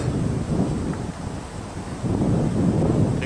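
Strong outdoor wind buffets the microphone in a steady, rumbling roar during a beehive installation, surging louder toward the end with no other sounds standing out.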